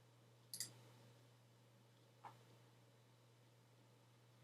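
Computer mouse clicked while logging into a website: two or three sharp, faint clicks spaced apart in a quiet room over a low steady hum.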